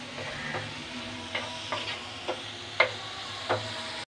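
Spiced chicken stirred and cooked in a frying pan, a soft continuous sizzle broken by several sharp scrapes of a utensil against the pan, close and moderately loud with no talking.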